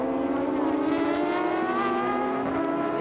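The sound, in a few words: GT race cars passing at Fuji circuit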